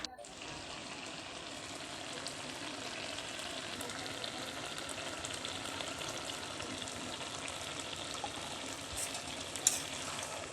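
Ghee is stirred into an ash gourd dish in a pan, giving a faint, continuous sizzle with soft scraping under a quiet, steady hiss.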